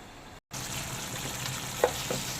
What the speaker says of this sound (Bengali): ভালো করে মশলাটাকে কষে নিতে হবে